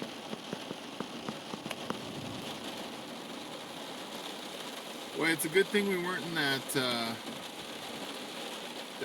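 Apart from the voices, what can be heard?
heavy rain falling at campsite in Colorado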